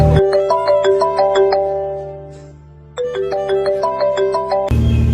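A phone ringtone plays during an outgoing call, a loud, close electronic melody of repeated chiming notes that runs in two phrases separated by a brief pause.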